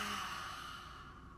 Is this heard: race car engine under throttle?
no